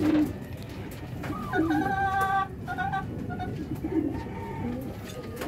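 Pigeons and a chicken being fed rice outdoors, cooing and clucking close by over a busy background hum, with brief bursts of softer calls throughout.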